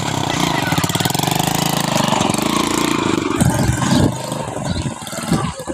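A tractor engine turning over and running with a steady rapid chugging, then the rhythm breaks into uneven knocks and bursts toward the end, close and loud.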